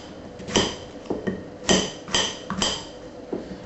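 Half a courgette being chopped with a kitchen knife on a board, a series of irregular sharp knocks, about seven separate chops spaced unevenly, close and fairly clear over light background noise.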